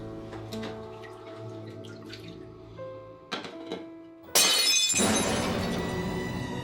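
A ceramic bowl smashes loudly while being washed at a sink, a sudden bright shattering crash followed by clattering shards and running water, after a stretch of quieter washing sounds.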